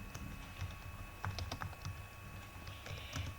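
Fingers type on a computer keyboard in quiet, rapid, uneven clusters of soft key clicks, close by, with no talking.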